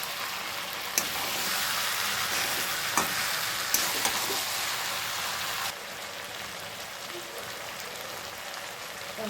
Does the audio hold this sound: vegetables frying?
yes